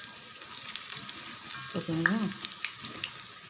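Mint pakoda frying in hot oil in an iron pan gives a steady, close sizzle throughout, with a brief spoken question rising midway over the bubbling.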